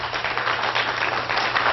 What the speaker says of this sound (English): how many people have been to my other shows by applause?